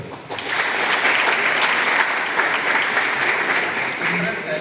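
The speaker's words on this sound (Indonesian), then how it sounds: "Boleh tepuk tangan dulu." Audience applause at a mock job interview session during the IPFEST 2025 event, a dense continuous wash of many hands clapping, loud and sustained after a brief quieter start.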